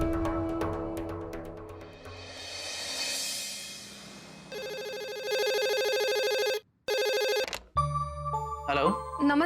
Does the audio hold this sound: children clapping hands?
no